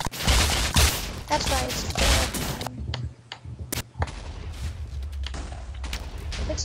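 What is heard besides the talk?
flashbangs being shot in Minecraft video game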